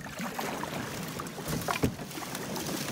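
A canoe pushing through river ice on the Yellowknife River in wind: close scraping and crunching against the hull, with a sharp crack near the middle, over constant wind noise.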